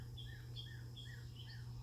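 Small birds chirp in a repeating pattern of short, bright calls, faint and distant over a steady low hum.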